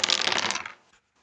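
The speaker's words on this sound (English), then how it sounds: "We throw 1" Thrown dice landing on a board-game table, a bright rattling clatter of small bounces for about three-quarters of a second that quickly settles into silence.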